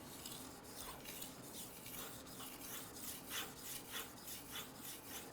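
A kitchen knife is drawn across a fine-grit whetstone, giving soft rhythmic rasping strokes that repeat at a steady pace, quiet and close with no talking.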